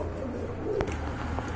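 Large pigeons kept as a pair in a loft, cooing softly and steadily at mid distance under a low background hum, with one brief louder flutter or call near the middle.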